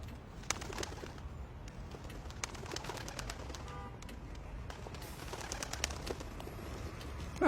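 Pigeons coo softly in the background over a constant low ambient rumble with scattered clicks and rustles. The calls are faint and recur through the stretch, with no one talking.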